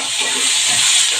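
Tomato goes into onion already fried reddish in hot oil, giving a loud, steady broadband sizzle and hiss that holds through the whole short moment, close up and without talk.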